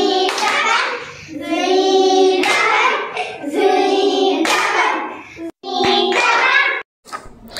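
Children in a classroom do a rhythmic bee clap, their clapping hands mixed with sung or buzzing voices that pulse steadily and stop briefly near the end.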